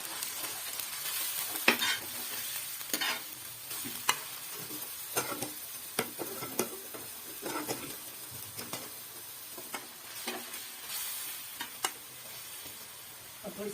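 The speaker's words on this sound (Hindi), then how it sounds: "इसको हमने बिल्कुल प्याज से फ्राई किया" Onions with ginger garlic paste, green garlic and green chillies fry in a pan, a steady soft sizzle broken by repeated scraping stirs and light utensil clinks, close and fairly quiet.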